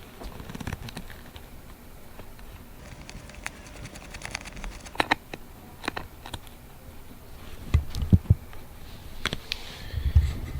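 Screws are unscrewed from the padding of a Bauer 950x goalie mask, giving small scattered clicks and ticks of a screwdriver close by, with light handling noise in between.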